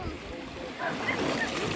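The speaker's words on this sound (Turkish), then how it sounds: "Dalga mı geldi sanki?" Small sea waves wash and lap softly against the shore, with a faint breezy rush, no voices.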